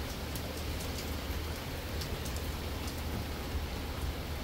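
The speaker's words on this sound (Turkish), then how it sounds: "Evet, yağmur devam ediyor." Steady rain pours down on a sailboat, a constant hiss of drops on surfaces with occasional sharper taps, heard alone without any voices.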